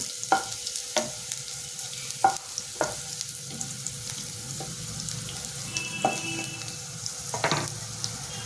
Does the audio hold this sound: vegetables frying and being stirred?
yes